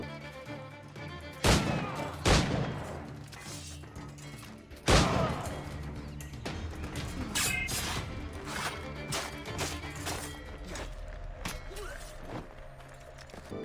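Gunfire in Assassin's Creed Black Flag: a few sharp, loud blasts near 1.5, 2.3 and 5 seconds, then lighter impacts and footsteps over a steady bed of game ambience and music.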